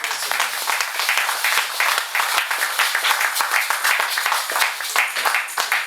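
A church congregation applauds loudly, with dense, sustained clapping from many hands filling the room, a few voices faintly underneath.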